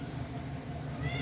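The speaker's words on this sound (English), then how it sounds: "The cat is in heat, so if you hear her, that's the cat." A female cat in heat meows in a domestic setting, faint against steady low household hum, with a higher drawn-out tone rising near the end of the short stretch.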